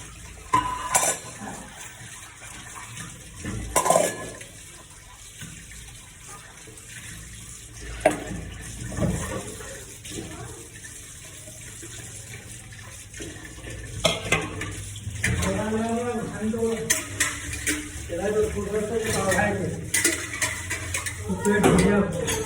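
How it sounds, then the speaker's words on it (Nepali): Dishes washed by hand under running water at close range: water splashes and runs in bursts, and plates and pots clatter and scrape. Occasional talk is heard. "मैले फटाफट भाँडा मिचेँ साथीहरू"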